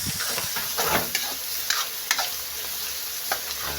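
Tomatoes for ginisang monggo sauté in a hot pan with a soft, steady sizzle, marked by a few sharp stirring clicks and scrapes of the spatula, close and fairly quiet, no voices.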